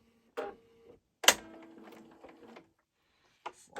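A sewing machine with a free motion foot takes a few short, separate stitching bursts, each a quick mechanical whir with clicking, with quiet pauses between them.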